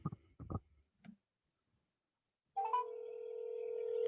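A telephone ring-back tone held up to a microphone, a steady electronic tone that begins after a few short knocks and faint handling noises, then continues unbroken and grows slightly louder.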